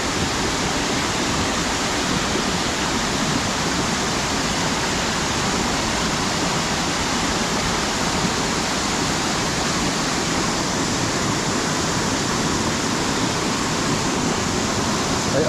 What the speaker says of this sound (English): this is where it's dropping down the main waterfall after coming underneath the road